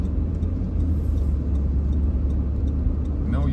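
A car rolls along through a town street, with a steady low engine and road rumble held close and continuous throughout, and a brief faint whine near the end.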